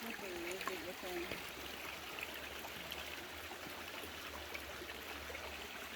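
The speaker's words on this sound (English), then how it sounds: "Are you going to fall in the water, JJ?" A forest stream flows steadily with a continuous rushing and trickling wash at a hiking crossing, and a person's voice is briefly heard over the water.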